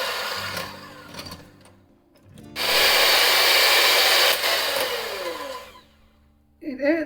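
An electric hand mixer beats red velvet cake batter, first a quieter low whir at slow speed, then a loud, high-pitched full-speed drone for several seconds before easing off, with no talking.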